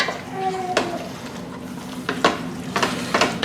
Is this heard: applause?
no